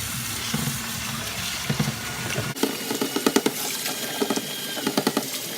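Tap water runs and splashes over salted napa cabbage leaves being rinsed in a sink for kimchi, a steady stream with a shift partway through and handling noises, no speech.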